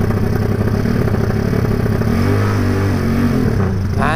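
A Honda Tiger motorcycle with a rebuilt 300cc engine, still being broken in, idles with a steady rumble, then revs briefly near the end, rising sharply in pitch.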